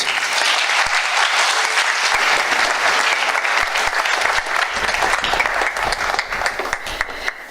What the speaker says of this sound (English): A big round of applause for Hani du Toit.